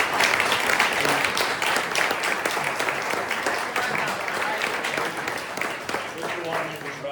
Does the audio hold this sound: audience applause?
yes